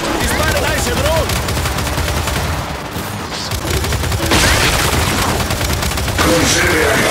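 Gunfire aimed at a drone in the video game Gears 5, dense rapid bursts of automatic shots crackling continuously amid battle noise, loud and close throughout.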